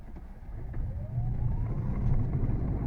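A Fiat 500e electric car pulls away from a standstill from inside the cabin, giving a low, steady rumble of road and motor that slowly grows, with a faint rising whine.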